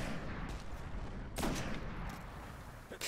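Gunfire from a sniper rifle in the Destiny video game, The Buried City level: a dense stretch of shots with one sharp louder report near the middle, heard alone with no talking.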